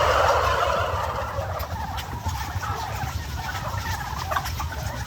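A flock of turkeys gobbles continuously inside a crowded barn housing about four square feet per bird, the dense, overlapping calls close and steady against a low barn rumble.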